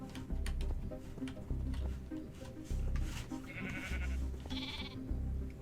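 Blocky Minecraft sheep bleat repeatedly in a survival world, several short nasal bleats recurring at a steady pace, fairly close and clear over faint ambient game sounds.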